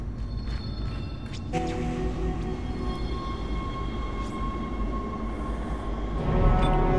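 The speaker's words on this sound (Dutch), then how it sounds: "Een tramstation." Tram station ambience in the Dead Space video game: a steady low mechanical rumble with sustained tonal hums that swell in after a moment, and a louder surge near the end, with no talk.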